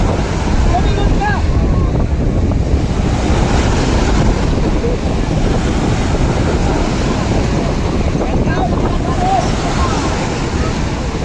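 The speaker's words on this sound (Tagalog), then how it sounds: "Talagang napakalalaki ng alon." Big ocean waves surge and crash in a continuous loud roar during an outrigger boat race at sea, heavily buffeted by wind on the microphone.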